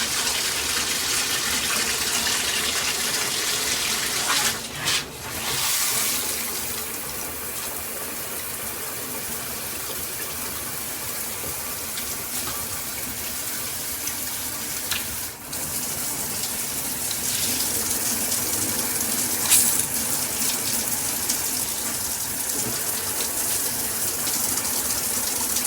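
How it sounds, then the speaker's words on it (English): A Cobbe 8-function handheld high-pressure shower head sprays water in a steady, loud, broadband rush that runs nearly unbroken for the whole stretch, with a couple of brief dips as the stream shifts, and no voices present. "the shower head sprays out a lot more"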